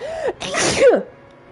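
One loud, close human sneeze, with a quick rising intake of breath just before the explosive burst, then quiet.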